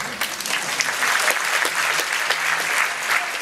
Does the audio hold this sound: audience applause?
yes